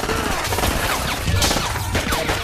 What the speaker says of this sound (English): Wait, why is Triple H firing at the police?